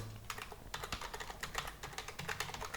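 Someone types a URL on a computer keyboard, producing a close, quiet series of rapid irregular key clicks with short pauses between bursts.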